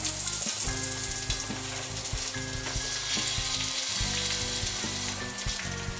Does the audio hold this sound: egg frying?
yes